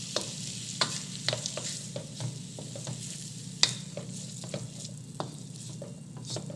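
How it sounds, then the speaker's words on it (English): Food stirred in a hot pan, a steady sizzle of frying with scattered scraping and tapping strokes from the utensil, close up and with no talking over it. "Now make sure we stir it all in."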